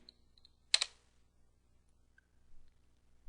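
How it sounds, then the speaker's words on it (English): A single quick burst of computer keyboard typing on a Linux system, a short clatter of keystrokes entering a file path, then near silence with faint background hum. "we're going to type in the full path to the file, etc aliases,"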